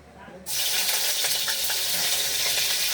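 Garlic dropped into hot oil in a pan bursts into a loud, steady sizzle after a brief quiet start, the crackling frying continuing evenly throughout.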